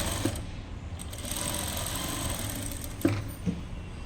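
A sewing machine running steadily while stitching a small child's top, a continuous close mechanical whir with a couple of brief clicks near the end.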